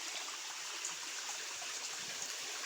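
A small stream flows near a planted spot, giving a steady, soft trickling rush with no voices over it.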